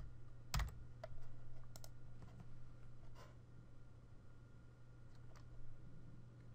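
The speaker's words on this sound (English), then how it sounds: "Type your keywords into the search box and hit search." Keys clicking on a computer keyboard in a short, sparse burst of faint taps over a steady low hum, quiet and close with no talking.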